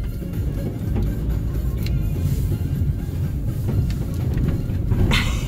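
A car drives through Istanbul traffic, its engine and road noise forming a steady, fairly loud rumble from inside the vehicle with faint clicks and passing sounds, and no talking.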